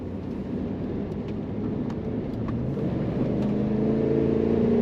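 A 2017 GMC Savana Explorer extended conversion van with an automatic transmission kicks down while driving. A fairly quiet road and engine hum, broken by a few faint clicks, swells as the engine revs climb toward the end.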